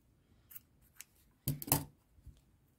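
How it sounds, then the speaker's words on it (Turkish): Scissors snip yarn for an amigurumi doll in a few quick, close, crisp cuts, with light clicks of the blades before a brief cluster of sharper snips. "Şimdi ipimi kesiyorum."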